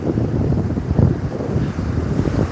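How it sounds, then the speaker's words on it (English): Ocean waves roll and wash continuously outdoors, mixed with heavy wind buffeting the microphone, a dense low rumble with no talking. "The waves are out here waving."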